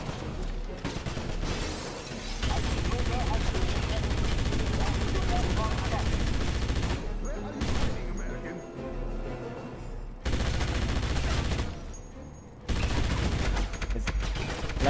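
Bursts of rapid gunfire from the 2009 game Wolfenstein, loud automatic volleys with sharp shots and shattering, broken by short pauses, continuing for most of the stretch.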